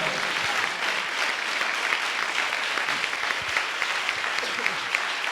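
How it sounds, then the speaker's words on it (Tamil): A church congregation claps together in sustained, dense applause that fills the whole stretch at an even, fairly loud level, with no break or fade. "ஆண்டவருக்கு நல்ல கனம் கொடுக்க முடியாது, ஒரு கைத்தட்டு கொடுக்கலாமா?"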